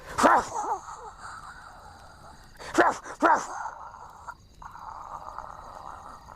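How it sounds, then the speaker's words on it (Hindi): A dog barks in three sharp bursts, loud and close, with a steady electronic hum and faint insect-like tones beneath, in a Hindi-dubbed Bollywood film scene about a half-crazed dog that frightens passersby. "एक कुत्ता, थोड़ा पागल सा, रोज आकर उन्हें डराने लगा।"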